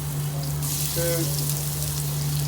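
Spices popping and sizzling in hot oil in a pan on a gas stove; a steady, close frying hiss with small crackles runs throughout over a constant low hum.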